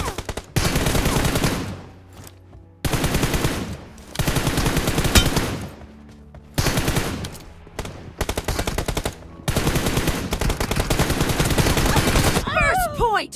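Rapid machine-gun fire in the team shooter game Star Captain, loud close bursts of several seconds separated by short pauses, ending with a brief electronic chirp.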